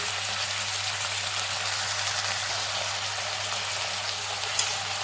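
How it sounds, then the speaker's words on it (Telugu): Fenugreek leaves frying in ghee and oil, a steady close broadband sizzle with no pauses, loud and even throughout with one faint tap near the end. "బాగా మగ్గనిద్దామండి, వేయించుదాము ఈ నెయ్యి ఆయిల్లోనే."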